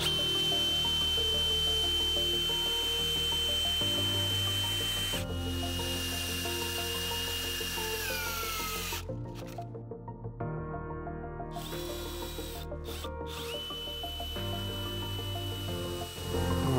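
Power drill driving screws into a wooden anvil stand in a workshop, with long steady whirring runs that pause and restart, close and fairly loud, with no talking.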